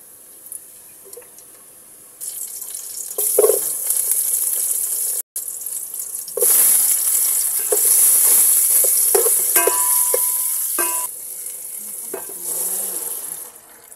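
Cooking oil heating in a pan gives off bursts of sizzling and spattering amid clattering kitchen noise, loud and close, with a short break partway through.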